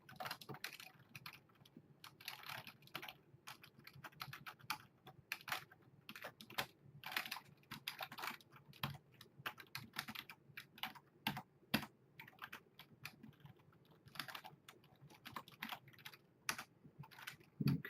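Rapid, irregular key clicks from a computer keyboard as a directory-change command is typed at a terminal during a software installation, close and steady with short pauses, no voices.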